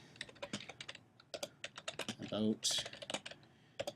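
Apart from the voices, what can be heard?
typing on a computer keyboard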